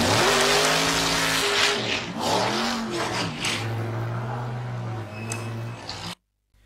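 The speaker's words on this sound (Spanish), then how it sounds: "ahí estamos viendo unas carreras de autos" Race cars roar through a car race inside a music video, with rising and falling engine revs and tire squeals, loud and continuous before cutting off abruptly near the end.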